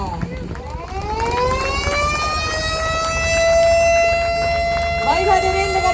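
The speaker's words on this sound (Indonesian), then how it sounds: "dengan ditandainya penekanan sirine" A ceremonial siren sounded to mark the first export of South Sumatran coffee to Malaysia and Australia, rising into a loud, steady wail that holds for several seconds over crowd noise before winding down at the end.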